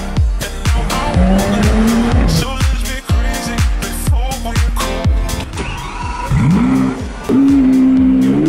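Lamborghini and Ferrari supercars, including a Huracan Performante, Aventador SV, Countach, Murcielago LP640 and 458 Speciale, rev loudly on a Mayfair, London street, with rising engine sweeps, crackling pops and repeated bursts of acceleration close by.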